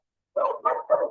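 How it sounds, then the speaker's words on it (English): Three quick barks from a dog in quick succession, moderately close and alone against silence. "Oh, there's a dog."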